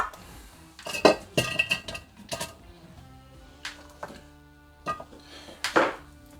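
Vegetables for Middle Eastern pickles dropped and layered into a big glass jar, giving scattered clinks and knocks of produce against glass in irregular bursts, close by, with no talking.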